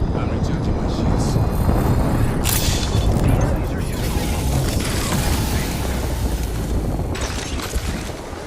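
A grenade goes off in the Apex Legends battle royale, a broad, dense burst with rumbling low-end fallout and debris noise sustained through the moment, with further game effects layered on top.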